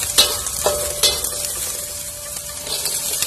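Corn and carrots stir-fry in a hot pan for corn nasi goreng, a close, crackling sizzle punctuated by a few sharp spatula scrapes over about three seconds, without talk.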